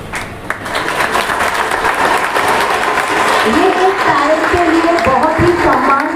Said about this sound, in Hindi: एक बार फिर जोरदार तालियां हो जाए हमारे फर्स्ट टॉपर के लिए